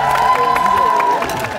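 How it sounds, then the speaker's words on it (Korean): A studio audience on a Korean variety competition show claps and cheers in a brief, loud, dense burst with some shouting voices mixed in. "중간 박수를 한 번 더 부탁드리겠습니다."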